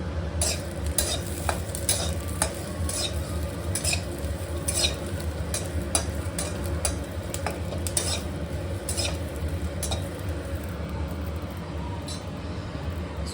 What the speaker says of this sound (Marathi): मिरची चांगली भाजली गेली पाहिजे त्यासाठी आपण त्याच्यामध्ये तेल टाकलंय भाजते मिरची